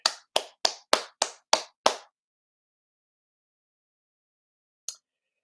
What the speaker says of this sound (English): Applause for Chuck.